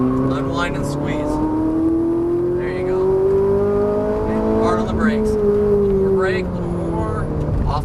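Ferrari 458 Italia engine droning at high revs on a race track, a steady rising tone with gear-change dips, loud and close throughout, with an instructor speaking over it.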